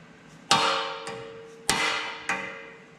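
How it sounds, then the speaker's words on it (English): Metal hammer blows knocking a bearing cup out of the frame of a Hodaka Combat Wombat motorcycle under restoration: four sharp ringing strikes, loud and close, each trailing off with a metallic decay. "right now we're going to hammer out this bottom one."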